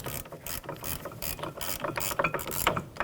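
A hand ratchet clicks rapidly and steadily, tightening the mounting screws of a rear brake caliper on a Jeep Patriot (2007–2017), close up and on its own for about three seconds.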